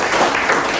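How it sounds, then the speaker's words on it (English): An audience at a climate-resilient infrastructure training session claps together on command: a short, dense burst of many hands clapping at once, steady and fairly loud, with no talk over it. "So now clap."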